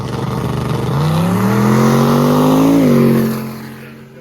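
A drag racing car launches down the track, its loud engine climbing steadily in pitch as it pulls away, then dropping and fading after about three seconds.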